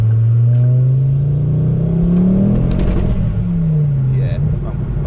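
Ford Focus ST with a stage 3 tune and a full 3-inch turbo-back exhaust pulls hard, its engine note climbing steadily, easing off, then rising again, loud and close beneath a voice.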